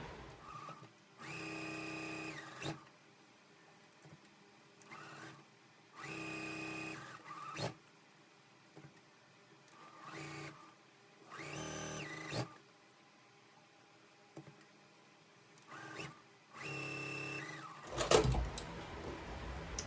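Star pieces for a scrappy quilt run through a sewing machine in repeated bursts of steady whirring stitching, each a couple of seconds long with short pauses between, ending in a brief clatter.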